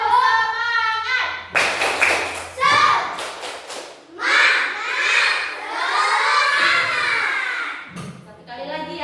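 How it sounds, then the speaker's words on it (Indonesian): Schoolchildren in a classroom perform a tepuk semangat clapping chant, shouting rhythmic words together between bursts of claps and thumps, loud and close, with a teacher's voice leading at the start. "Kita akan melakukan tepuk semangat."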